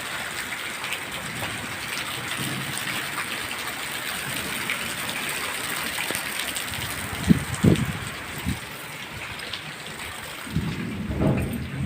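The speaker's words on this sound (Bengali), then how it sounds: "বন্ধুরা আজকে বৃষ্টি পড়ছে খুব ভালো লাগছে" Steady evening rain falls throughout during a windy storm with lightning, a continuous hiss with a few low rumbles and thuds, likely distant thunder, around the middle and near the end.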